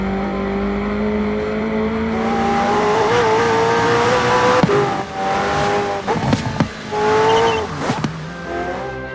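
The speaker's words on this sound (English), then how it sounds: "All these exhaust pops that you can hear, they were authentic recordings which came from the McLaren session." McLaren Senna in Forza Horizon 4, its engine revving hard and rising through gears with sharp exhaust pops and crackles on lift-off. Loud and close, with a cockpit perspective and tyre noise, and no talking.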